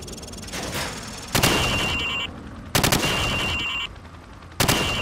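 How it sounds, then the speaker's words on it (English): Rifle fired from the hip at range targets in Call of Duty 4: Modern Warfare campaign, loud sustained automatic bursts in three long strings separated by brief pauses, with ringing mechanical tones between volleys. "Now shoot at the targets while firing from the hip."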